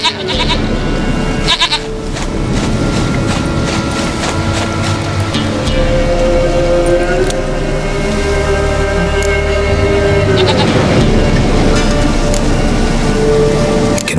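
A goat bleats in The Witcher 3: Wild Hunt, a drawn-out wavering call rising above a loud, dense game soundscape with a steady surf-like wash throughout.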